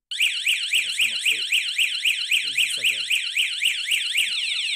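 Lacrylink home alarm siren set off by door-opening and motion detectors, a loud piercing warble rising and falling in rapid regular sweeps, continuous and close.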